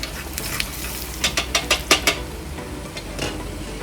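Cumin, mustard seeds, fenugreek seeds and two chillies tempered in hot oil with asafoetida for sambar give a quick run of sharp crackling pops over a steady background sizzle, then settle into a quieter fry.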